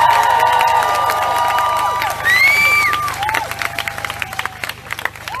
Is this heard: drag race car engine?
no